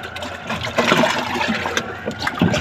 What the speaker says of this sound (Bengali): পানিটা ভালোভাবে মিশিয়ে দিচ্ছি।